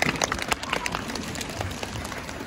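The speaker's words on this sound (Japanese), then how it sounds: "こっちの端から向こうに向かって拍手ウェーブ開始" A live theme-park show audience at Universal Studios Japan claps while rising in a wave, producing a dense, steady patter of many hands throughout, with crowd murmur and stray voices mixed in.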